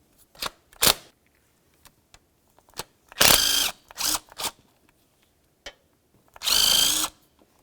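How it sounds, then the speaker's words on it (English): Ratchet work on the two 10mm bolts of a 2000-2005 Buick LeSabre thermostat housing gives quick clicking bursts, a few short ones and two longer rasping runs, close and fairly loud with quiet pauses between. "we're going to start removing our two 10mm headed bolts that hold down our thermostat housing"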